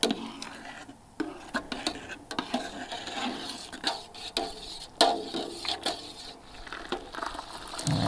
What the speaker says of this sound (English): So I'm gonna keep it stirred while I'm going.